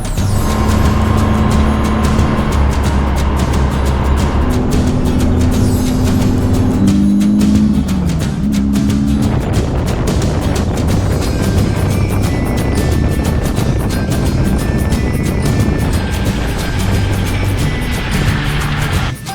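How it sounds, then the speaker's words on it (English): A VW Beetle Baja Bug driving with its tires rubbing badly on the fender, a continuous loud engine and road drone with tonal whines and scraping, steady throughout with no talk. "they are rubbing really bad. We're going to end up tearing up this fender, not to mention the noise that it's making right now"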